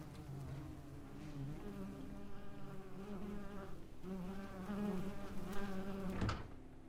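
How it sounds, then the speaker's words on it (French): A swarm of flies in a video game makes a dense, continuous buzzing whine, with many wings droning together and shifting slightly in pitch, steady and fairly quiet with no speech. "Pourquoi il y a autant de mouches?"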